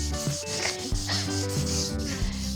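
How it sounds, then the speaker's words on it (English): Sandpaper rubs against a surface in steady back-and-forth strokes, close and clear, with a rough scratchy texture and no voices. "I just really hate the sound of sandpaper."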